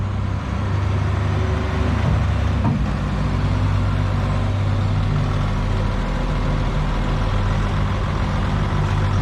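A Fadroma wheel loader with a newly replaced engine after a full overhaul runs steadily at close range on a farm, a loud continuous low diesel rumble with no speech.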